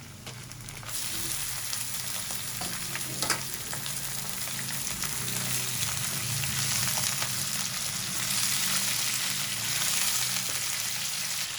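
Steady loud sizzling of beef frying with onions in a hot pan, continuous crackle with occasional stirring, no voices.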